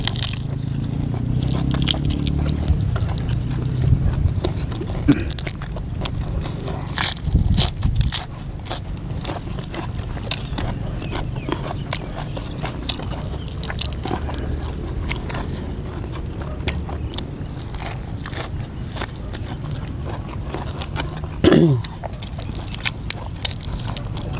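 Someone crunches and chews crispy fresh vegetables with steamed white shrimp and fermented fish dipping sauce outdoors in a field, with close, steady chewing and occasional crisp bites.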